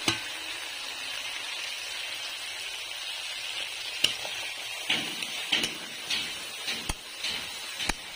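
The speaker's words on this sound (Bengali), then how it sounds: "কাঁচা লঙ্কার গন্ধটা যতক্ষণ না যাবে ততক্ষণ আমি একটু ভেজে নেব।" Half-ground green chillies fry in a pan with a steady, close, dense sizzle, broken now and then by a few sharp knocks of a utensil against the pan toward the end; no one speaks.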